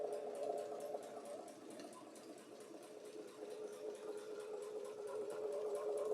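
A sewing machine stitches steadily along a curved circle with a very light presser foot, giving a smooth, continuous fast whirring hum at moderate, even volume with no talking.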